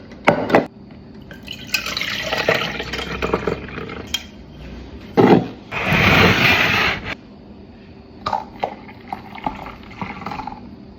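Lemon juice pours and trickles into an apple ginger punch, a loud splashing stream midway with intermittent drips and clinks of dishes around it.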